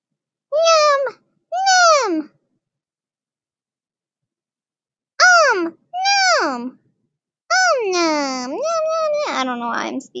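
A human voice imitates the meowing of Nyan Cat, the cartoon cat from the game, with close, clear meow-like calls: two quick ones, a pause, two more, then a longer, wavering run of meows.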